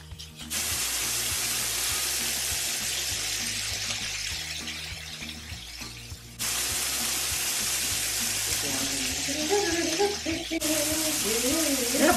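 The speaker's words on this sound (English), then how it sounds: "we are going to render out the fat in this bacon and make it crispy" Thick-cut bacon squares fry and render their fat in a pan, a loud constant sizzle with a low steady hum beneath, cutting out briefly and resuming, while voices murmur faintly near the end.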